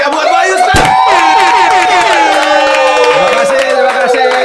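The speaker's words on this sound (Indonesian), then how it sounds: "tepuk tangan yang paling meriah buat Bayu Skat" A studio audience at an Indonesian talk show breaks into loud cheering and shouting with some clapping, a dense continuous roar of many voices close to the mic.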